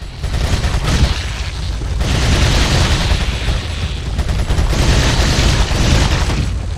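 Loud gunfire and explosive booms in Resident Evil 4 HD Project come as dense, overlapping blasts that rumble continuously with brief swells, with no talk over them.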